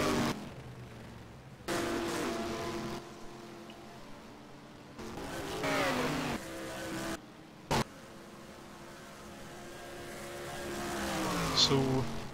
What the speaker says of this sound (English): As we can hear again, Yves Placer coming up